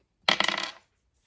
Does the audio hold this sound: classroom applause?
no